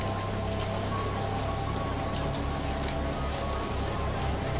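Steady rain falls on surfaces as storm ambience along a dark hill path, an even, continuous wash of drops at moderate volume with no voices.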